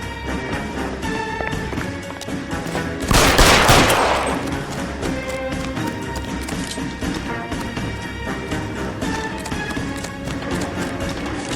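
A burst of gunfire in the L.A. Noire video game rises briefly over a constant bed of loud, dense game music and ambience, then fades back into the steady score.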